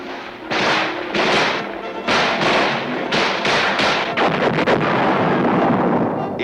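Military artillery fire from 8-inch and 155mm self-propelled howitzers, booming in a series of loud, heavy blasts at irregular intervals, with the rumbles overlapping into a continuous barrage.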